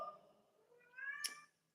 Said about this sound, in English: You hear my kitty cat?